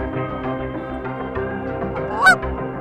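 A flock of ducks and geese feeding in a harvested grain field in northern country, with geese honking repeatedly and overlapping. One sharper, louder honk stands out near the end. No talk is heard.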